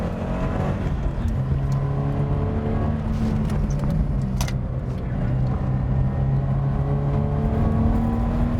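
A manual car's engine revs and shifts during heel-and-toe driving on a track lap, loud and close, with rising and falling whine across gear changes and brief clunks in the middle.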